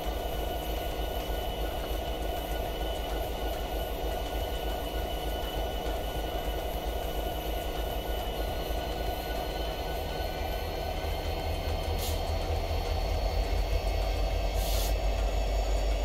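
A train runs in Train Sim 2021 with a continuous loud rail rumble and clatter of wheels, steady throughout with a couple of brief high squeal accents near the end.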